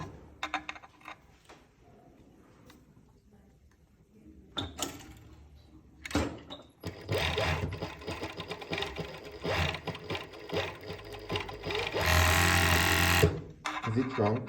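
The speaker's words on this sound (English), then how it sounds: "Is it wrong to use an overlock as you would a sewing machine?" An overlock machine stitches fabric in loud, fast mechanical runs after a quieter stretch of handling clicks, stopping and starting with a steady whirring burst toward the end.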